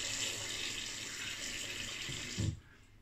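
A tap runs warm water into a sink for shaving, a steady close hiss that stops abruptly as the flow is shut off.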